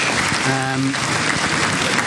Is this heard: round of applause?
yes